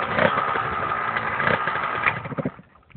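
A Yamaha DT 125 R two-stroke motorcycle engine runs close by at a loud, steady idle, with a few revving bursts before it cuts out near the end; nobody speaks.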